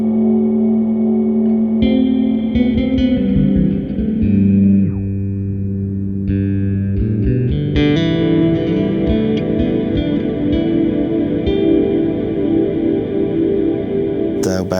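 A deep synth bass plays sustained notes with a washy, lingering reverb tail that blends the notes into each other.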